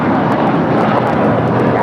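A Spirit Airlines airliner takes off from runway 25 right at LAX, giving a loud, steady, broadband jet roar that holds unbroken and fills the whole stretch with no other sounds standing out.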